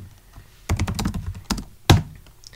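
Typing on a computer keyboard at a desk while entering a git command, a handful of crisp key taps in short clusters ending with one heavier keystroke, close and clear with no talking.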